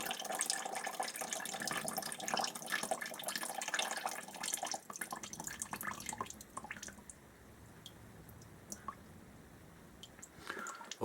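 Coolant draining from a radiator hose on a Suzuki GSX1300R Hayabusa motorcycle, a steady trickling, splashing pour into a container that softens after a few seconds to a quieter flow with occasional drips.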